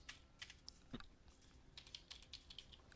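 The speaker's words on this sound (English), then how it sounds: "You hear me typing?" Quiet bursts of typing on a computer keyboard, quick irregular key clicks close to the microphone, faint and unaccompanied by speech.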